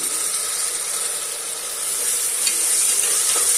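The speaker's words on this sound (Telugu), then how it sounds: "కట్ చేసి పెట్టిన టమాటాలు ఉన్నాయి కదండి ఇవి కూడా వేసి ఫ్రై చేసుకోవాలి" Onions and tomatoes fry in a pan for mutton masala gravy, a steady close sizzle with bright hissing that swells slightly toward the end, with no talking.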